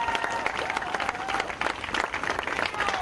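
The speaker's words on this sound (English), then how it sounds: "give yourselves a round of applause" Applause from a crowd at a street protest demanding racial justice, a steady wash of clapping with a few voices calling out, heard at moderate distance.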